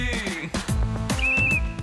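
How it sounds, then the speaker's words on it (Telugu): A brief, shrill whistle from the groom's side at a wedding-themed TV game show cuts through loud, thumping music for about half a second. "మగ పెళ్లి వారు విజిల్ వేశారు"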